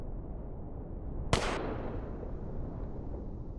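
A single sharp sniper rifle shot in the video game H.E.N.T.A.I. Sniper cracks out once, loud and close, over a steady low game ambience, its tail fading quickly.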